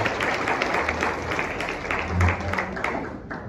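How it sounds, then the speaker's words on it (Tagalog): A church congregation breaks into steady, fairly loud applause that continues evenly throughout, with a faint murmur beneath the clapping. "isang malakas na palakpak po muna sa akin."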